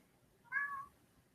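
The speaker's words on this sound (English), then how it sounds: "There's my kitty." A house cat gives a single short meow, fairly close and clear against a quiet room.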